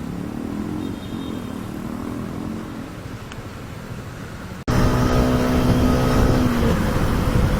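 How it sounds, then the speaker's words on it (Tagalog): A motorcycle engine that is acting up runs with a steady, rough drone, then becomes noticeably louder and fuller after an abrupt cut about two-thirds of the way through. No one speaks. "regla na naman yung motor natin"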